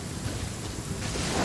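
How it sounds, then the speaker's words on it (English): A brief stretch of video game rain hissing steadily, fairly quiet, with a soft low rumble beneath it. "But it is raining."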